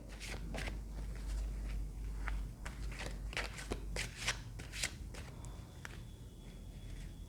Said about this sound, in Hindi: जब तक मैं कार्ड शफल कर रही हूँ आप लोग भी मेडिटेट कीजिए।